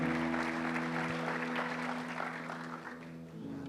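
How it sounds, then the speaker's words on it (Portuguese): A church congregation applauds the band, steady moderate clapping at some distance over sustained keyboard tones, fading slightly toward the end. "Vamos aplaudir a Jesus por essa banda maravilhosa."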